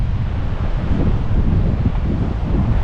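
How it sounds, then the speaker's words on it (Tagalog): Steady wind blows across an open beach resort in Laguindingan at evening, a continuous loud rushing roar with low buffeting on the microphone and no voices. "Sarap ng hangin dito."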